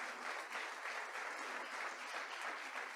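Steady applause from a church congregation during a Spanish-language anniversary worship service, a dense wash of many hands clapping at moderate, even volume for a few seconds with no voices over it.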